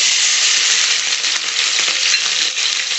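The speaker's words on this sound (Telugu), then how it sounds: "ఆయిల్ హీట్ ఎక్కింది. ముందుగా మనం పచ్చిమిర్చి వేసుకుందామండి." Green chillies sizzle loudly in hot oil in a kadai, a dense continuous hiss and crackle that holds steady and close throughout.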